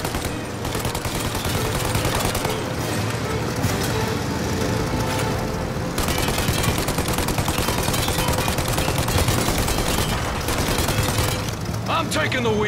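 Gunfire in the video game Mafia Definitive Edition during a chase after a plane, with dense continuous rapid shots, machine-gun bursts and engine noise, loud and unbroken, with voices shouting over the shooting.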